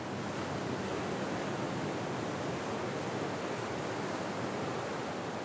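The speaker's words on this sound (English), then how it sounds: "We've walked to where the Bass Strait collides with the Southern Ocean." Steady roar of ocean surf where Bass Strait meets the Southern Ocean on the Otway coast, dense, continuous broadband wash with wind, no voices.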